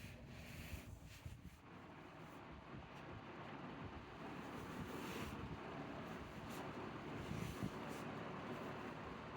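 A Honeywell HF910 floor fan running on its low speed setting, a faint steady whoosh of moving air with soft rumbling and no voices.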